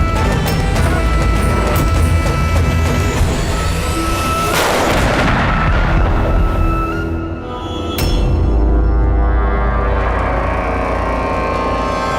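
Heavy, sustained gunfire fills the scene, a dense roar of shots and booms with a sharp crack near the end, loud and close.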